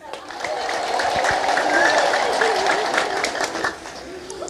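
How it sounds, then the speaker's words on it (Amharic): Church congregation ululating in a sustained, loud wave of high trilling voices mixed with crowd noise and some clapping, swelling and holding for several seconds. "አሁንም እልል በሉ።"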